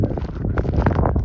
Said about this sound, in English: A little bit of wind. Yeah, sorry for the noise factor.